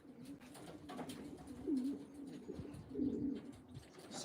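Racing pigeons coo softly at a pigeon loft during basketing for a race, with two brief, slightly louder coo phrases standing out over a steady low murmur of birds.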